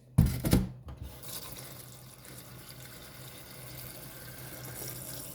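Water pours into a blender jar holding stale bread pieces for grinding, a steady splashing stream that starts with a louder gush and carries on alone at moderate level.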